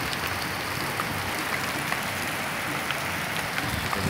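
Heavy rain pouring on a Sunday in the city of Cali, a dense, steady hiss of falling water and spatter across the whole stretch with no pauses and no voices.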